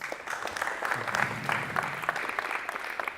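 An audience at a Manchester University leadership talk breaks into a short, lively round of applause, a dense patter of clapping heard up close for about three seconds without speech.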